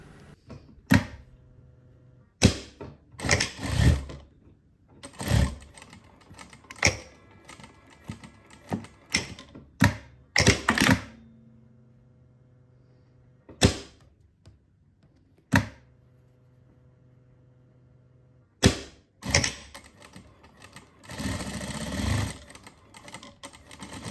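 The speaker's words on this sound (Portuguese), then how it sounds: "Abrir assim e costurar aqui a meio centímetro." A sewing machine stitches fabric for a cosplay boot in short separate bursts of rapid mechanical whirring, broken by quiet pauses, with a longer run near the end; no talking.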